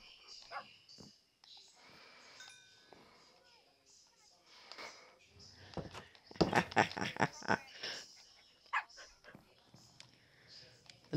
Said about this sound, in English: Dog army begins.